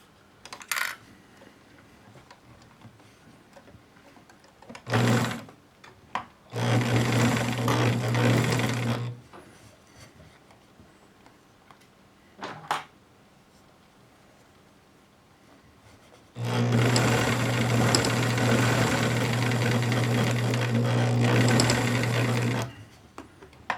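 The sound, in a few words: Bernina Record 830 sewing machine sewing a zippered pouch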